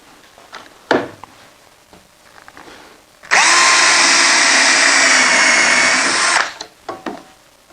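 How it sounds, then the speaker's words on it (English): A power drill pre-drills screw holes in wood for a miter saw station, one sustained whine of about three seconds at close range, framed by small clicks and handling knocks before and after. "I can come back and pre-drill for all the screws that are going to be used to fasten it together"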